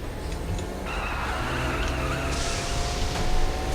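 Car drifting in the video game Saints Row: Gat Out of Hell, a steady screeching tire skid and engine whine running continuously and fairly loud, with no talking over it.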